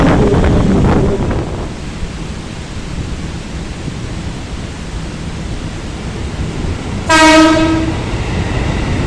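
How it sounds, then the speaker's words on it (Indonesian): The Gunung Jati economy train pulling into the station in rain, a loud steady rumble and rolling clatter of carriages close by, punctuated by one long, bright horn blast near the end. "ini kedatangan kereta api Gunung Jati ekonomi 1"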